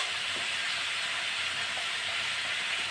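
Yardlong beans and potatoes frying in a pan, a dense, continuous sizzle and hiss that stays steady and close throughout, with no voices.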